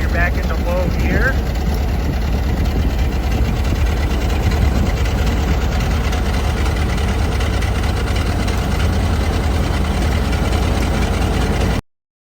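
A 1925 Ford Model TT fire engine runs, its engine giving off a loud, steady, low, mechanical drone close by that continues unchanged until the sound cuts off abruptly at the end.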